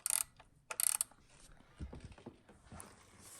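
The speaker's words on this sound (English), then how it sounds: "we decided to take our 8mm wrench again and put our bolt back in the front here on that A-pillar trim" An 8mm wrench ratchets a bolt tight on the A-pillar trim of a 1999–2004 Ford Mustang, with quick close clicking bursts followed by softer metallic fiddling.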